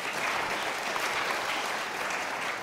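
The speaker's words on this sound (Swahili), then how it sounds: "Tupige makofi Ngala jamani" Audience at a Swahili arts performance at MP Shah Chania secondary school clapping, a thick continuous patter of many hands, steady and close.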